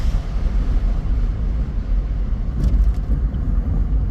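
A 1984 Dodge Rampage 2.2 sport truck with a 5-speed manual drives along with a steady low engine and road rumble from inside the cab, loud and continuous, no talking.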